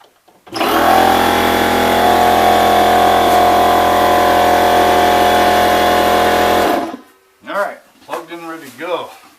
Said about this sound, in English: get our air compressor filled up